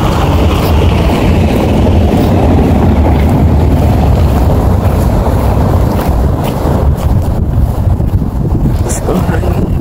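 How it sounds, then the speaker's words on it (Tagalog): Strong, constant wind in Kuwait roars across the microphone at close range, a dense unbroken rush with a voice faintly mixed in. "hangin"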